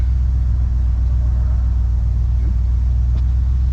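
A car engine with its choke on holds a steady high idle, a close, loud, continuous low rumble with no breaks.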